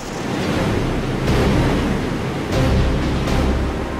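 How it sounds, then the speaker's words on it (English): Fast, raging river water rushes beneath a suspended rope line, a dense, loud, continuous roar with surging swells and no voices. "You're really aware that below you is all this fast-flowing water"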